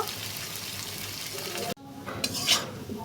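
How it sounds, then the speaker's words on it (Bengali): Steady sizzling of garlic, onion and chopped potato frying in a pan, with a brief cut to quieter clinks and scraping of a utensil near the end. "এবার সবগুলো উপকরণ একটু ভালোভাবে ভেজে নেব।"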